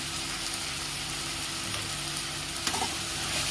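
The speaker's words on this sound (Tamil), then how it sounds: "நல்லா வதக்கி விடுங்க. நல்லா வதங்கட்டும்." Tomatoes fry with salt in oil for pudina chutney, a constant hissing sizzle close by with a faint scrape of stirring near the end.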